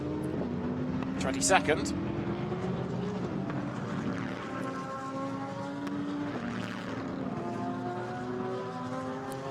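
A Bentley GT3 race car engine at the Nürburgring whines past with rising and shifting tones, mixed with other car engines while a commentator talks throughout.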